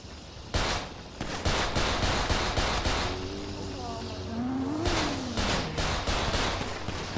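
Rapid gunfire in GTA 5 comes in loud clustered bursts and single cracks over a running car engine, with a rising and falling siren-like tone partway through.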